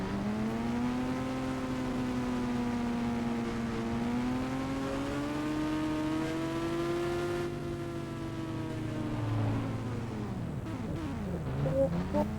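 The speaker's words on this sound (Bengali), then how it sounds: "এর এক্সস্টের সাউন্ডটা অনেক কড়া কড়া, একদম কড়া সাইলেন্সার।" Kawasaki Ninja motorcycle with a loud aftermarket silencer while riding, a steady droning exhaust note that rises and falls in pitch with throttle, close and continuous, dipping sharply near the end.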